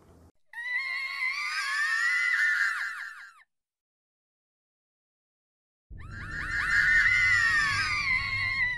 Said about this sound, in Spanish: el grito de Po es el mismo grito que el de Goshkir, simplemente que está al revés